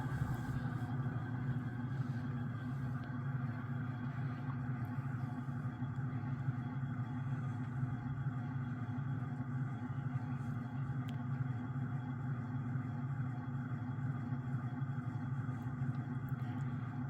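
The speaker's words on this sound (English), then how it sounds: "So as you can tell, definitely not the fastest fan in the world." An Emerson Casablanca 52-inch friction-drive ceiling fan, long unused, runs on high, giving a steady, quiet, low motor hum with a faint mechanical whir that stays constant and unbroken.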